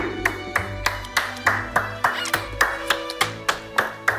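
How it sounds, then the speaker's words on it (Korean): A father claps for a chef in a kitchen, about a dozen single, evenly spaced hand claps, close and crisp, over a low steady background hum. "아빠가 셰프님께 드리는 팬심 어리는 박수"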